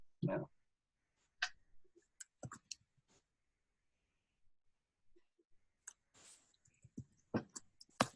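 Someone types on a computer keyboard in a quiet room, producing faint, irregular clusters of clicks separated by short silences.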